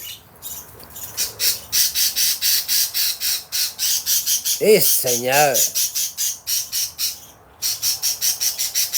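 Outdoors, a bird squawks in a fast, insistent series of sharp, chirping calls that repeat steadily throughout. A voice briefly breaks in partway through, with a short pause in the calling near the end.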